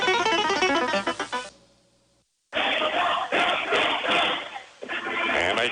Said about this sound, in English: MHS cheerleaders rallying the student section